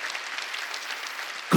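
A church congregation claps steadily through a Sunday worship service, a dense, even patter of many hands at moderate level, with a brief louder thump right at the end.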